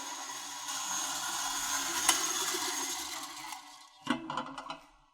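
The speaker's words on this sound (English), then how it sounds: "we're just going to whisk that until it's incorporated" Batter with vanilla extract and melted butter is whisked in a bowl for a Yule log cake, giving a steady, moderately loud scraping swish that continues, then breaks into a few sharper clatters near the end.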